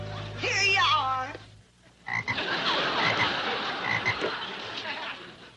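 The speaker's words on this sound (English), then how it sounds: "It's a frog." A frog croaking steadily in an outdoor setting, a continuous raspy chorus that runs through most of the clip, preceded by a brief burst of music and a short pause.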